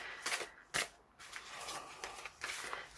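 A deck of gel-printed postcards is shuffled by hand, giving several quick riffling bursts and soft flicks of card stock, close and fairly quiet with no talking.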